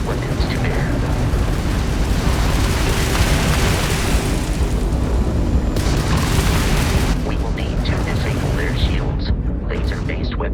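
Crimson Fleet ship weapons firing during space combat in Starfield: a loud, dense barrage of booming blasts and rumbling bursts that runs the whole time, with a voice talking over it.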